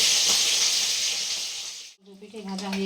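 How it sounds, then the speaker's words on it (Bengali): Small rohu fish (chara pona) frying in hot oil for a kalia, a loud steady sizzling hiss that cuts off abruptly near the end, followed by quieter kitchen sounds. "মাছগুলো পুরো ভাজছে, আওয়াজটা দেখো কত আসছে মাছ ভাজার"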